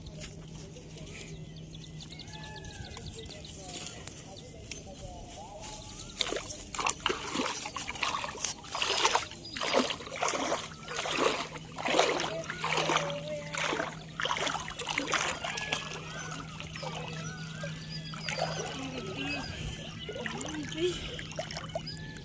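Water trickles and splashes in bursts as an umbrella-style fish trap is lowered into the water, with some nearby speech in the background.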